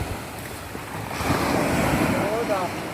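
Waves wash over a boat landing at very high tide, a steady surging hiss of water with wind noise, rising slightly in the middle, heard up close.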